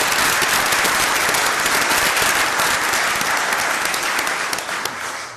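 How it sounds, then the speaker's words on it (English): Sustained audience applause fills a board of aldermen meeting in New Bern, steady dense clapping throughout that thins slightly toward the end, with no talk over it. "give all of our departments and Colleen a round of applause for all the work they've done."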